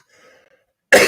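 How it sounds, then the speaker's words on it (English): A single short, harsh cough bursts out loud and close after a moment of near silence, from a man still getting over a lingering illness. "I still have a little bit of a cough."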